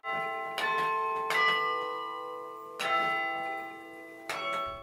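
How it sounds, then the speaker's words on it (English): Carillon bells in Luther Tower at Concordia Seminary ring out as the keyboard is played, four clear resonant strikes with long sustaining hum between them, loud and alone. "He's playing the keyboard in a carillon."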